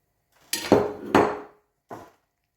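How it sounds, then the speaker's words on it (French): A few sharp clinks and scrapes of a utensil against a frying pan while potatoes, onions and egg are mixed together, three distinct knocks close by in otherwise quiet surroundings. "Je vais mélanger dans la poêle."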